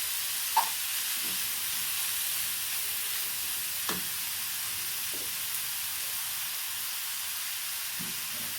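Ridge gourd peel sizzling in a pan as it cooks: a steady, soft frying hiss with a few faint clicks and pops, heard alone.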